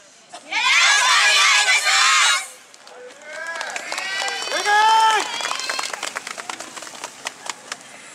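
A crowd cheers loudly for a youth YOSAKOI dance team at the Kanuma YOSAKOI festival, in a dense two-second roar, followed by a person speaking over scattered, fainter crowd noise.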